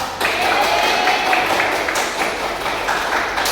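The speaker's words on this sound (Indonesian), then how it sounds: "Tepuk tangan untuk yang berani menjawab." Classroom applause during a micro-teaching lesson, a steady burst of clapping from a group of students lasting a few seconds, fairly loud and continuous.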